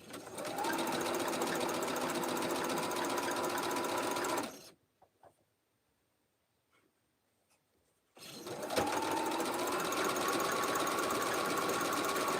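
Sewing machine running steadily while stitching a quilt block for a rag quilt, a close, loud, even mechanical whir that stops for a few seconds of near silence and then resumes.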